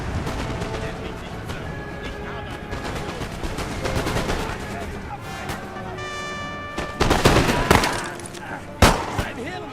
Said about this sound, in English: think the canister shot is working.